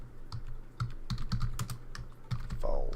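Quick, uneven tapping on a computer keyboard, clustered clicks of individual keys close by over a steady low hum, with a brief faint tone near the end.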